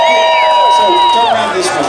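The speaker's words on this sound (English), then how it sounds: "Give him a big round of applause." A crowd at a downhill Barbie Jeep race cheers loudly, with whoops and shouts over a brief burst of crowd noise and voices close by.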